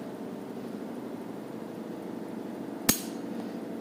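The hammer of a Springfield 1911A1 pistol drops on a trigger pull: a single sharp metallic click, near and brief, standing out against a quiet room hum.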